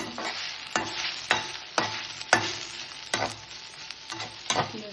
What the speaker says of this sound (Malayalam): വെണ്ടയ്ക്ക തോരൻ ഏകദേശം പാകമായിട്ട് വരുന്നുണ്ട്.